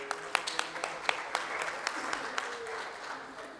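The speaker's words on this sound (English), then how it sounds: "Please give applause to them." An audience at a college conference day breaks into applause for award winners, a steady spread of clapping hands at moderate distance with a few sharper individual claps standing out.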